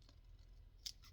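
Scissors snip around small cured UV resin pieces in a quiet room, giving two or three brief, faint crisp cuts.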